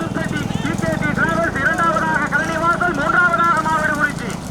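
Racing bullocks pound past in a bullock cart race at a village festival, rhythmic hoofbeats and cart rattle under a loud announcer's voice talking throughout.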